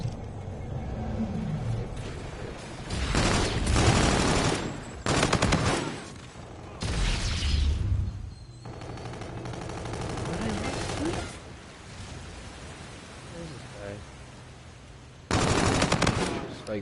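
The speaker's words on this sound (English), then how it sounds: "this gun has really nice hipfire" Weapon hip-fired in Call of Duty: Infinite Warfare, with loud sustained automatic bursts repeating in several separate strings of gunfire, mixed with game mechanism clatter and a player talking over it.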